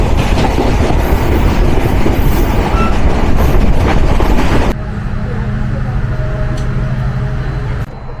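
A broad gauge train running on the tracks: loud, dense rumbling roar of wheels and carriages, then an abrupt drop to a quieter steady hum with faint tonal drone, as if heard from inside a coach.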